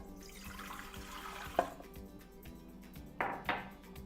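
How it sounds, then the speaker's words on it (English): Warm water pours into a KitchenAid stand mixer bowl while making pretzel dough, a soft steady trickle running through the clip with a couple of brief louder splashes near the end. "So in this KitchenAid, I'm gonna add the warm water."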